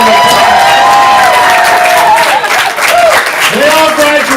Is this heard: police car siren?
no